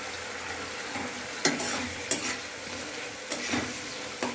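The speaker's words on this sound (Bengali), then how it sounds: "এবার এর মধ্যে চিংড়িগুলো ছেড়ে দিব।" Shrimp fry in a pan with cumin, dried chilli powder and coriander, a quiet continuous sizzle broken by several sharp clatters of a spoon stirring against the pan.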